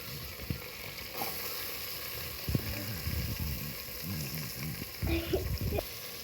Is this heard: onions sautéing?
yes